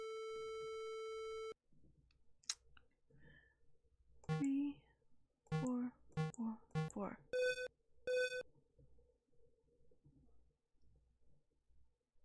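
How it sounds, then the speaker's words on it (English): A phone being dialed in the PC adventure game Maniac Mansion: a steady electronic tone, then a run of sharp synthetic beeps and tones of varying pitch, fairly loud and alone with no talking. "let me try calling her with the phone"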